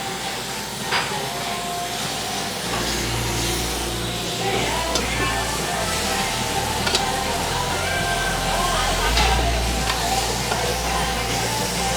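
Food sizzles on a Korean BBQ table grill at Master Kim's restaurant, a steady close crackle over a low rumbling hum, with faint restaurant noise around it.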